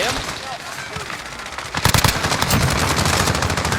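Automatic fire from a CR56 AMAX assault rifle in a shooter game, starting after a stretch of quieter game noise and then rattling loudly in fast bursts until the end.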